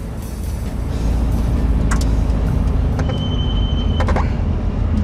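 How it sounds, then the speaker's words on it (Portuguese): Brake squeal and pedal noise from a Toyota Hilux SR, with thin high-pitched squeaks and short clicks over a steady low vehicle rumble, heard close and without talk. "Dá pra escutar o chiado do freio, né?"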